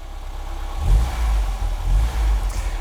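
A 1.1-litre classic Ford Fiesta barn find runs with the choke off, a steady low engine note close by that swells twice as it revs slightly, then settles back to a rough idle.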